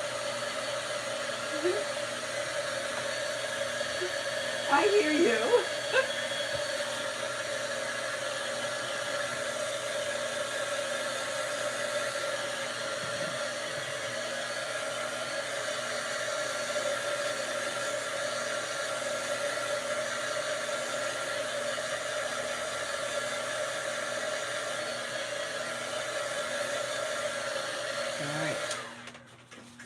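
A steady blower-dryer whir drying wet craft paint runs for nearly the whole stretch, loud and constant, with a brief voice near the start before the noise cuts off at the end.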